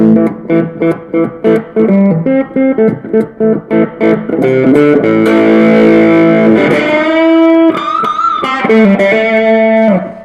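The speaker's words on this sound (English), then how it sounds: "So if I add like distortion to it." Electric guitar made from an oil can, with a distorted tone, playing a rhythmic chopped riff, then ringing sustained chords, loud and close.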